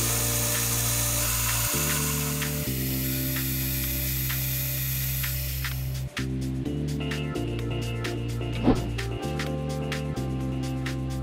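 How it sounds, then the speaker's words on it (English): A milling machine forms a thread in a metal part for a bluing tray handle, giving a close, steady motor whine that shifts pitch in steps as the cut changes, with fine rattling chatter and a brief clack near the end. "Then I took the part back to the mill to form the thread for the handle."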